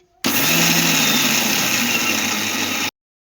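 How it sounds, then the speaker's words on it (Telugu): A kitchen mixer grinder whirs loudly and steadily as it grinds sesame seeds into a fine powder, a single continuous burst of just under three seconds, starting and stopping abruptly. "సో ఇవి మిక్సీ పడదాం ఫస్ట్."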